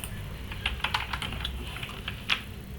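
Computer keyboard typed on while entering a value during an HTML and CSS web page tutorial, a short run of scattered close clicks and keystrokes over a low background hum.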